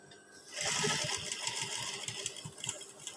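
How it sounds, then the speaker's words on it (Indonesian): A sewing machine runs steadily as it stitches a uniform collar for a PKK-style outfit, a close rapid mechanical whir with quick regular needle ticks, starting after a brief quiet moment and continuing without talk. "Kita jahit."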